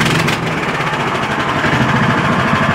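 Sawmill engine, started warm with a little throttle, running steadily loud and close with a rough, continuous mechanical rumble.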